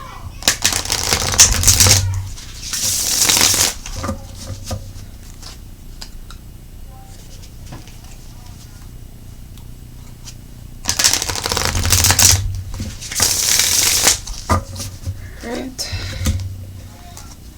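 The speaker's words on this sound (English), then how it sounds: "That half is shuffled, not this half." A deck of playing cards is shuffled in two riffling bursts, each a few seconds of close, crisp fluttering, with quieter handling noise and faint room sound between them.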